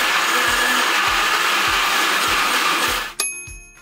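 Several blenders run together with their jars locked, grinding whole spices in a loud, steady motor whine with a rhythmic knocking underneath, then winding down abruptly near the end.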